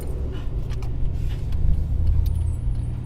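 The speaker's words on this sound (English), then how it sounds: "Big truck." A big truck passes along a city road near a Kansas City bridge, a loud, steady low rumble that swells slightly and holds throughout.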